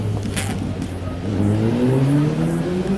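Busy London street traffic noise, with engines rumbling and revving nearby as vehicles pass, a steady loud wash of city road sound.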